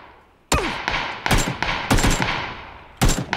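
Gunfire in the battle-royale game PUBG: a string of sharp, loud shots at irregular intervals, some single cracks and some quick pairs, each ringing out briefly before the next.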